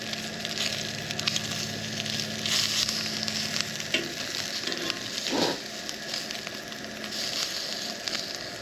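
Sausage fries in a pan over the flame of a Coleman camp stove, a loud continuous sizzle with crackling spits and a few stirring clatters, close up with no talk.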